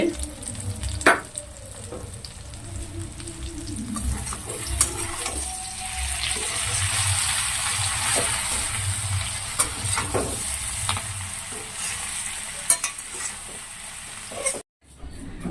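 Brinjal (eggplant) fry sizzles in a pan with a steady hiss. Sharp scraping and tapping sounds come in at intervals as it is stirred, and water trickles briefly under faint background noise.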